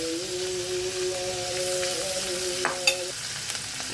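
Fish being lifted out of a frying pan over a continuous bubbling sizzle of oil, with a few soft clinks of a utensil near the end.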